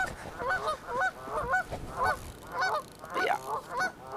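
Geese honking at a backwoods pond, a series of about eight nasal honks in an uneven rhythm, moderately close over faint wind and ambient noise.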